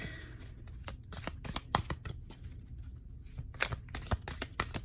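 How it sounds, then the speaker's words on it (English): Tarot cards are handled and flipped during a reading, a close series of soft rustles, slaps and quick riffles that repeat steadily with no talking. "I'm gonna take the one on top and I'm gonna flip the others"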